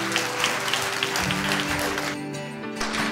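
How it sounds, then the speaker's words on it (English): A church congregation gives a hand clap of praise, a brief burst of many hands clapping together over sustained organ or keyboard chords, the clapping thinning out toward the end while the music rings on. "Come on, give the Lord a hand clap of praise."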